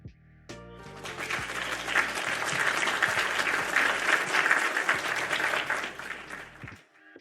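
A small audience breaks into sustained applause after a talk, a dense wash of claps swelling quickly, holding steady for several seconds, then tapering off near the end.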